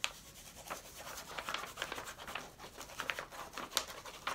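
A pen scratches and taps across paper while someone draws, with short, quiet, irregular strokes close by and no talking.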